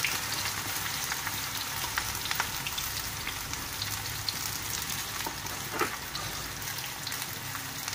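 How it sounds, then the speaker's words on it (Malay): Continuous sizzling of onions sautéing in a wok for chicken curry, a steady crackling hiss with occasional louder pops, no talking. "Tumis bawang dulu."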